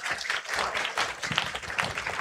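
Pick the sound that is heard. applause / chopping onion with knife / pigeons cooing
applause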